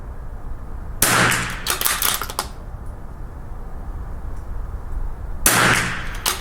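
Two sharp rifle reports from Lapua 22LR ammunition during a ten-round rifle match outdoors, a few seconds apart, each a loud crack with clattering tail, over steady wind and background noise.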